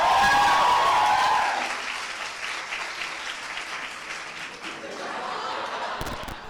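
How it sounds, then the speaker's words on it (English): Applause from an audience at a media festival, loud at first and then settling into softer, sustained clapping and crowd murmur, with a voice briefly audible near the start. "You're clearly not clapping enough for her to stay."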